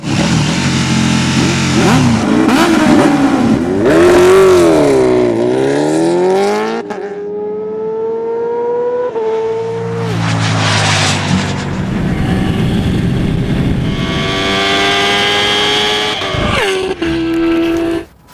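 A KTM Super Duke 1290 and a Kawasaki H2R race each other, their engines revving hard and shifting up through the gears as they scream past loud and close, with the pitch rising and falling.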